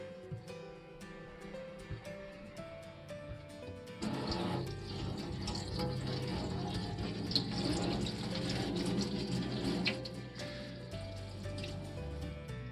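Fresh mint leaves are rinsed under a running kitchen tap. The water starts partway through as a steady, soft splash with faint clinks, then eases off near the end in a quiet room.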